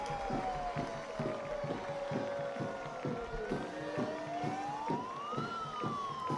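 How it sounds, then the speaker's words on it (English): Wailing sirens sweep up and down in a soccer stadium over a rhythmic pulsing beat and crowd noise, loud and continuous throughout, as smoke cannons fire. "The sirens are going off."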